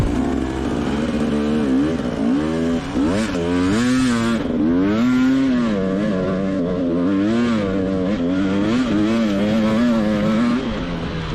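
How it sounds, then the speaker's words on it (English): A KTM EXC/XCW TBI dirt bike engine revving hard as it climbs a hill, loud and continuous with rising and falling revs, no voices. "And now listen to Cooper's bike on a similar hill, which sounds much better."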